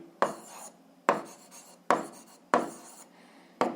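Pen strokes on paper while an algebra exercise is worked out by hand, coming as five short, distinct scratching bursts close by, with no voices.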